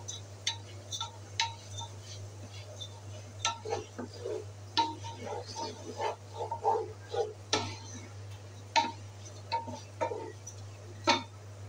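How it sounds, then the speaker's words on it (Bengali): Rice grains fry in oil in a pan for beef biryani. They give off faint, irregular crackling ticks and light clinks over a low, steady hum, with soft stirring in between. "কীভাবে ঝনঝনি শব্দ করছে, এভাবেই ঝনঝনি শব্দ করলে আপনারা ভেবে নেবেন যে চাল ভাজা হয়ে গেছে"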